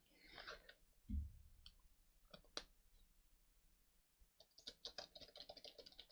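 Fingers tap on a wireless computer keyboard in faint, quiet bursts of clicking, with a short gap in the middle, then a quicker run of keystrokes at the end.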